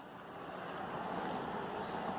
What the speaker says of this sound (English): River is flowing wide.